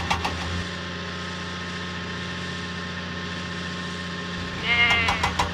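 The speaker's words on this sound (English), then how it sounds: "Thomas must deliver the goats to Farmer McCall's farm" Goats bleating in a Thomas and Friends video game, a few loud repeated bleats near the start and again near the end over a steady low engine idle.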